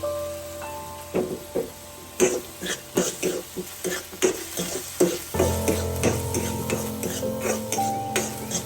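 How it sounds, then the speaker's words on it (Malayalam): Onion, green chilli and ginger garlic paste frying in a pan for a veg sandwich filling, rhythmic scraping stirs over a low sizzle, close and fairly loud, with a steadier fry toward the end. "ഇനി നമുക്കത് നന്നായിട്ട് ഇളക്കിയിട്ട് ഒന്ന് മൂത്ത് വരാം"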